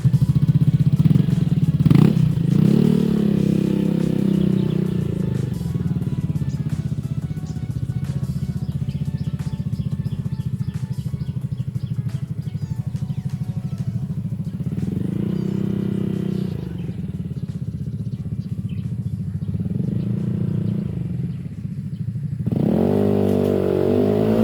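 Yamaha Aerox 155 scooter accelerating hard and then braking sharply during a brake pad test, a steady droning engine note that rises and falls through several revving surges, with a louder rev at the end.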